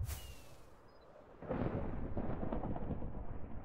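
A quiet rumble of thunder from lightning in a video game rolls in about halfway through, a broad low roar that swells suddenly and slowly fades, preceded by faint ambient tones.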